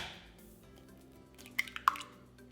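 Eggs poured into reduced apple cider and cooled melted butter for homemade apple cider donut batter, giving a few quiet wet plops and drips near the end after faint kitchen background.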